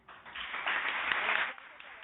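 Audience applause at a human rights panel, a short burst of clapping that swells and fades within about two seconds, fairly faint, with speech over it.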